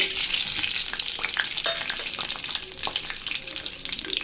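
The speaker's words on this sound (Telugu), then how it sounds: "కరివేపాకు, ఎండుమిర్చి దోరగా వేయించుకోవాలి" Urad dal and chana dal fry in hot oil with curry leaves and dried chillies as a tempering for gongura pachadi. The close, bright crackling sizzle comes in uneven bursts over a few seconds, with no talking.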